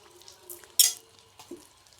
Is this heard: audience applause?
no